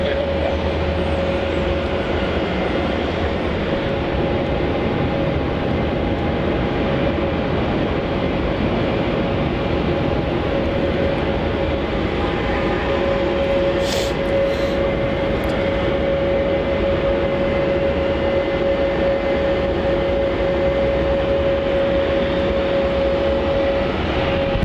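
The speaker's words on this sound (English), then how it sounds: "here it is. Vietnam flight 781 arriving in from Ho Chi Minh City." A Vietnam Airlines airliner, flight 781 from Ho Chi Minh City, arrives at foggy Melbourne Airport with a loud, continuous broadband jet roar and a steady engine whine held throughout without a break.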